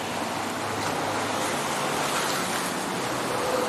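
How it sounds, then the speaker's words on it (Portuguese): Calm sea waves at high tide wash in as a steady, even broadband rush with no distinct breaking crashes, close and continuous throughout. "Hoje a maré está bem mais alta, mas tranquila, não tão agitada quanto esteve ontem"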